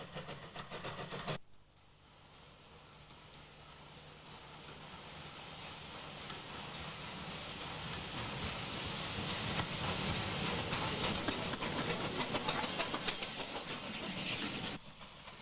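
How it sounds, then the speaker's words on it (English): Steam trains run on the four tracks between Wavertree and Allerton Junction near Liverpool in the 1950s–60s: a steady, building rumble and hiss of locomotive and wagons rolling past, loud and continuous for most of the stretch. "these scenes recapture something of the splendour of steam on the 4 tracks between Wavertree and"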